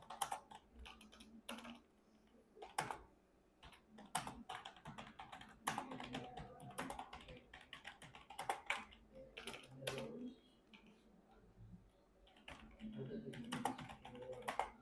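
Typing an address on a computer keyboard while formatting a Word document, with irregular bursts of close key clicks and pauses, and a voice speaking quietly over parts of it.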